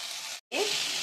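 Radish sambar base frying with turmeric in a pan, a dense, steady sizzle that cuts out for a moment and then returns just as loud with a brief stirring scrape.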